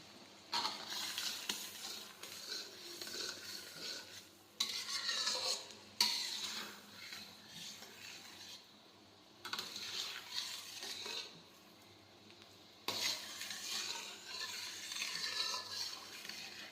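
Melting sugar syrup for mandvi pak is stirred in a pot: bursts of scraping and swishing spoon strokes with a soft sizzle, separated by brief quiet pauses, close and moderately loud.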